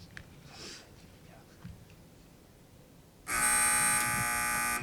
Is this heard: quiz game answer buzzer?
yes